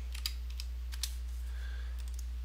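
Typing on a computer keyboard, a short run of distinct key clicks in two quick clusters over a constant low electrical hum, close and fairly clear with no talk.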